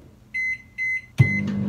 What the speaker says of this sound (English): we are having issues with the microwave. Like every time I press start